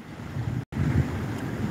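Storm surge waves roll against a seaside boulevard in Bicol ahead of a typhoon, a steady rushing churn of water mixed with heavy wind buffeting, broken by one brief dropout.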